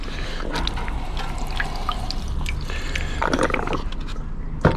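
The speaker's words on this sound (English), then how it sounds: "Just rinse my hands off, get all the aqua regia off my hands." Tap water runs steadily while hands are rinsed clean of aqua regia, a continuous splashing, dripping flow with small irregular spatters, close and fairly loud.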